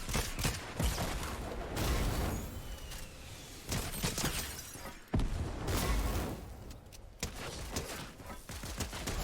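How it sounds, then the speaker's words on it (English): Pistol shots crack in quick clusters in a Fortnite Zero Build match, breaking a structure with sharp shattering impacts, several loud bursts separated by short gaps. "you want to break the structure with your pistol"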